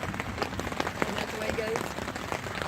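Rain drums on a tent during thunderstorms at Dillon State Park. The patter is dense and steady and close by, with a few sharper drops standing out.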